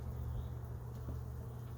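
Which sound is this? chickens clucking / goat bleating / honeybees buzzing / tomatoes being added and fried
honeybees buzzing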